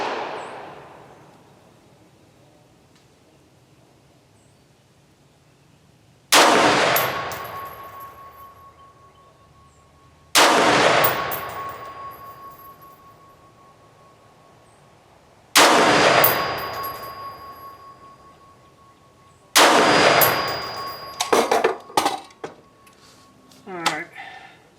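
A Brownell's retro AR-15 prototype rifle fires four sharp, loud single shots several seconds apart outdoors. Each crack rings off a steel target with a metallic clang and a long decaying tail, and a quick cluster of clanks follows at the end.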